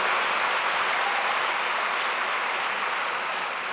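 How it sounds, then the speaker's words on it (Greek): A large audience at an awards evening gives a long, loud, dense round of applause for the honorees, continuous and unbroken. "Τους αξίζει ένα πολύ μεγάλο χειροκρότημα."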